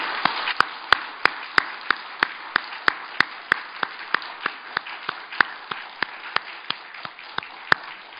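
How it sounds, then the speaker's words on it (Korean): Church congregation clapping together in slow, even unison, about three claps every second, sharp and fairly close, with a faint room murmur underneath and no talking. "우리 하나님께 영광의 박수를 올려드립니다"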